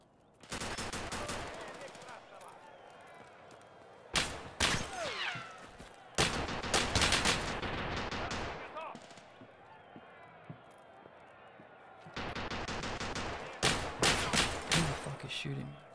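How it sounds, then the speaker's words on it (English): Gunfire in an Escape from Tarkov Arena match: loud, close bursts of automatic shots in several separate volleys with short quiet gaps between them, and a voice speaking briefly in between. "Shooting."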